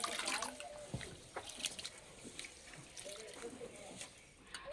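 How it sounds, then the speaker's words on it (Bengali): Rice being rinsed by hand in water for egg pulao, soft sloshing and dribbling with small splashes, quiet and close, under someone speaking. "এবারে চালটাকে পরিষ্কার করে ধুয়ে নেব"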